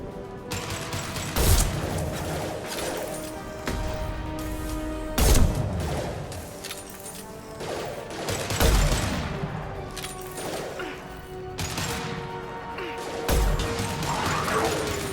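Gunfire and heavy impacts in the video game Mass Effect 2 (Legendary Edition), with repeated loud bursts and crashes every few seconds over a continuous mechanical combat backdrop.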